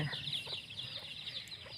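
Chickens clucking softly at a distance, a faint run of short clucks over a steady, hissy outdoor background.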